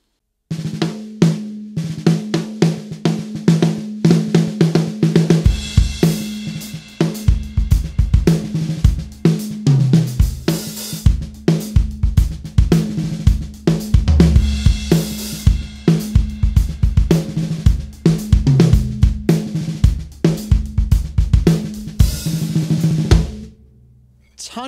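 A Ludwig Acrolite snare drum with wide-open tuning struck repeatedly in a steady groove, loud and ringing with long buzzy overtones, sometimes alongside a low kick drum.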